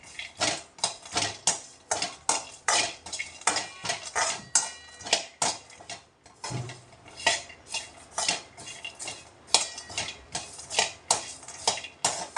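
Masala being stirred and dry-roasted in a pan for a brinjal bhaji, giving a steady run of quick metallic scrapes and clinks of a spoon against the pan, close and fairly loud, with a brief pause midway.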